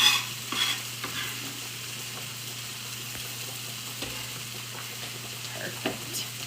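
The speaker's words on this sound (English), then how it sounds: "And then I'm going to toss it with my tongs." Pasta and tomatoes are tossed with tongs in a pan for a tomato basil pasta, giving a soft, steady sizzle with faint scraping and stirring taps, close by and without talk.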